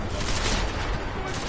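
Sustained gunfire from Deus Ex: Mankind Divided, a dense continuous barrage that stays loud and close across the whole moment.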